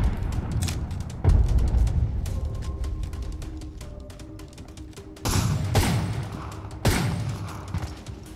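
Frag grenade blasts and gunfire in the battle-royale shooter Apex Legends: loud booming bursts land at intervals over a steady rumble of fire, with rapid shots crackling between the heavier explosions.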